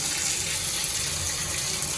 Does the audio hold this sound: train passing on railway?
no